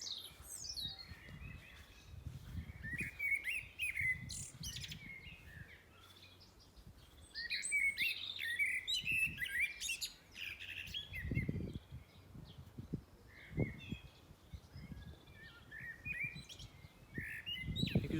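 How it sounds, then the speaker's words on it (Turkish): Birds chirp and tweet repeatedly outdoors in springtime Germany, bright calls scattered throughout with a few squawks, over quiet low rumbling background. "Bakın kuş sesleri ne kadar da güzel."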